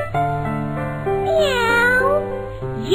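A cat's meow rises and falls over a sustained musical backing in an animated children's story, a single clear, close cry lasting about two seconds.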